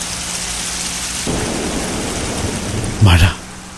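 Rain falling outside as a radio drama sound effect, a steady hiss of rainfall that thickens partway through, then a short loud thunder-like rumble near the end.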